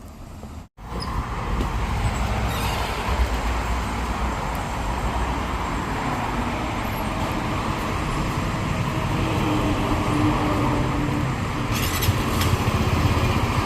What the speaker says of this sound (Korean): 어, 소리 좋다. 순정 배기가 좋아요.